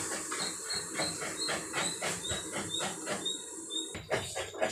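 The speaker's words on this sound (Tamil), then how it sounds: "இட்லி சட்டி தண்ணி கொதிக்குதுங்க" Steady bubbling hiss of water boiling in an idli steamer pot, with a rhythmic rattling pulse and a brief clank near the end.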